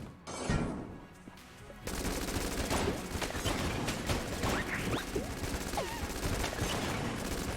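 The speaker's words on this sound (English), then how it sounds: "I want to continue using the heck blaster until it runs out of ammo" The heck blaster in Enter the Gungeon fires in rapid, sustained bursts of loud gunfire mixed with crashing impacts and small whooshes, starting after a brief quieter opening.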